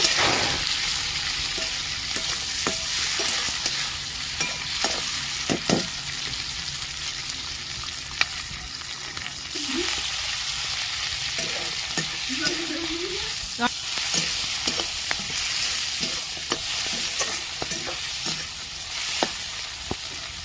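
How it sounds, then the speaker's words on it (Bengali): Chopped beans, tomato, green chilli and peas fry in a pan with a steady loud sizzle throughout, broken by occasional scraping stir strokes, and no talking. "বিনস কুচি দিয়ে দিচ্ছি টমেটো কুচি কাঁচা লঙ্কা মটরশুঁটি সব দিয়ে এবার আমি ভেজে নেব"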